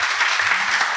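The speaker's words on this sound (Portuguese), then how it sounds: "dá uma salva de palmas para ele" Audience at a Portuguese-speaking church service claps for a visiting guest, a dense, steady burst of many hands applauding close by, filling the whole moment without voices.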